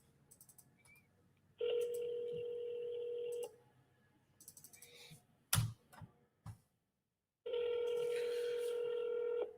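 An outgoing telephone call ringing on the line, with two long steady ringback tones separated by a pause, interrupted by clicks and brief handling noises in between.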